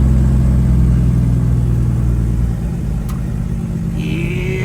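A rebuilt Cummins ISX15 CM2350 truck engine runs loud and close with a deep steady drone, easing slightly as the throttle settles, then a higher tone rises near the end.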